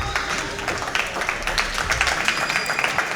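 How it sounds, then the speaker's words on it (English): Steady applause and clapping from a crowd at a junior fair sheep show, a moderate, even patter of many hands lasting throughout. "Let's give them all a big round of applause."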